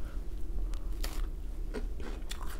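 Close, crisp crunching bites and chewing of a badly burnt, dried-out frozen cheeseburger, several irregular crackly crunches over a low background rumble.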